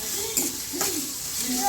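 Chicken frying in a pan with salt and turmeric for a village-style chicken sambar, a soft steady sizzle with occasional scraping stirs, fairly quiet and close, with no talk.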